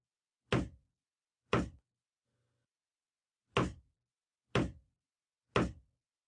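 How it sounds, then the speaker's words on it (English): Hollow knocks on a door, loud and close, sound alone: two knocks, a long pause, then three more evenly spaced knocks. "What's that knocking? Do you hear it? Knock, knock, knock. 3 times, then a pause, and then again. It has a hollow sound"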